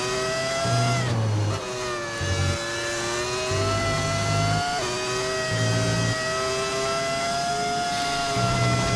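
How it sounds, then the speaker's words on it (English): A modded F1 racing car engine in the F1 25 video game revs hard and keeps climbing through gear changes, a loud, steady whine that dips briefly at each shift. "It comes with like all the previous F1 game engine sounds, and then you also get a V8 and a V12"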